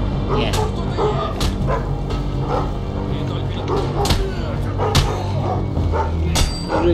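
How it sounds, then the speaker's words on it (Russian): Rex the dog barks repeatedly in the video game Thief, a series of sharp, close yips and woofs spaced irregularly over a low rumbling background, with a voice speaking between them. "Рекс, не гавкай."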